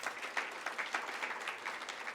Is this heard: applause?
yes